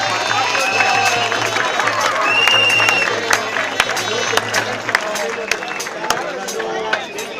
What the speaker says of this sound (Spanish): Un aplauso a ella, por favor.